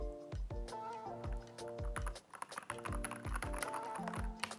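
Keys of a full-size Keychron K10 mechanical keyboard clack in quick, uneven bursts, close by, over a faint steady background tone.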